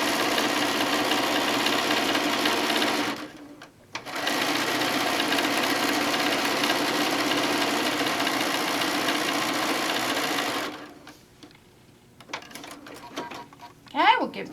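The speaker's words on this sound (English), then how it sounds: "we're going to line up and we're going to sew our long seam" A sewing machine stitches a long quilt seam in a steady, fast mechanical whir, running in two sustained stretches with a short pause between, then stopping as a voice talks near the end.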